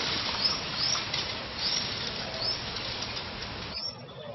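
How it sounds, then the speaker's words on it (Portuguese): A Belgian canary moves about, with wing flutters and a few brief chirps over steady background noise, close by, no talk. "Deixa eu dar um zoom lá no canário belga, ele aí."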